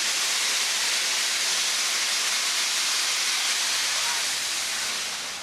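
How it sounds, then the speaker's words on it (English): A steam train locomotive lets off a loud, continuous roar of hissing steam that holds steady and fades slightly at the very end, heard alone without talking. "the train steamed into the suburban night"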